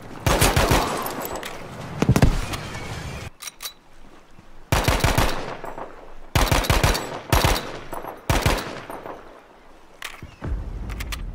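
Bursts of automatic and single-shot weapon fire from a video game's beta weapons, including a Turner SMLE semi-automatic rifle conversion and a grenade, loud and close, in repeated volleys separated by brief quieter gaps.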